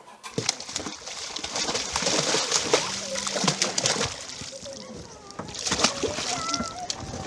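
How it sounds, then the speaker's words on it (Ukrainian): Silver carp being released into a lake, with repeated watery splashes and sloshing alongside bird calls and cooing, people talking throughout. "Тонну риби запустили в озеро Басівкут у Рівному."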